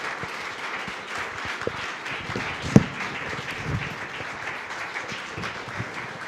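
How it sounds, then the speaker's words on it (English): Audience applause for Table Topics speaking contestants, a steady moderate clapping from a small crowd over several seconds with one sharp nearby clap standing out. "Give them all a big round of applause"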